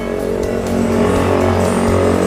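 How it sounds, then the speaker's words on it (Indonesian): Suzuki Satria FU 150 motorcycle roaring past nearby, a loud, sustained engine drone that swells and holds for a couple of seconds with no talk. "Satria FU lewat guys. 150 yang paling enteng sedunia guys lewat. Suaranya cetar membahana banget"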